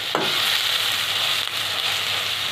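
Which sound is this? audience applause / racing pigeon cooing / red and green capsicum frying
red and green capsicum frying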